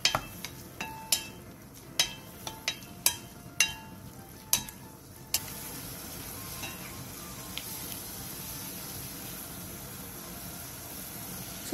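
Beef brisket with minced garlic, ginger, soju and soy sauce stir-fries over high heat in sesame oil in a pot, a low steady sizzle; sharp utensil clacks ring out at the start before the frying carries on alone.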